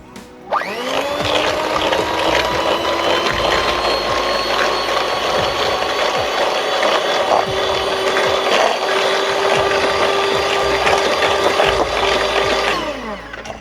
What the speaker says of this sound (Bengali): এবার আমি এই সব উপকরণগুলো ভালোভাবে হ্যান্ডউইচ দিয়ে মিশিয়ে নেব